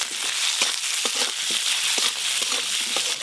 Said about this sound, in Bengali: এইভাবে নাড়তে নাড়তে টমেটোগুলো গলিয়ে নেব।